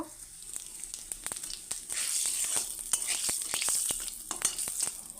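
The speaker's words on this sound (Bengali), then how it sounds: "এখন আমি পুরনোর জন্য জিরা দিয়ে দিব" Cumin seeds sizzling in hot oil in a pan that was just used to fry cauliflower, a close hissing crackle that swells after the seeds go in, with scattered sharp ticks and pops and no talking.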